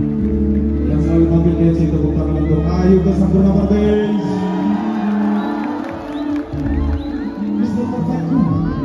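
A private corporate-event concert crowd cheers and whoops for a singer performing with a band, the loud, steady roar mixed with sustained band music throughout.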